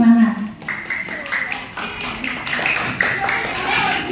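Fourth-grade pupils in a classroom clap for classmates arm wrestling, scattered hand claps and taps mixed with a teacher's voice and children's chatter throughout.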